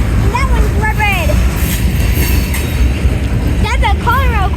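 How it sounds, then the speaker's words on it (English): A Conrail freight car rolls past up close, a heavy, steady rumble of wheels on rail with bursts of high squealing and a voice briefly speaking over it. "That's a Conrail quarter car."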